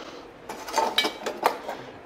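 A small frying pan and little dishes being handled in a kitchen, with a few light clinks and knocks of metal and crockery spaced irregularly, fairly close and moderately quiet against a soft background.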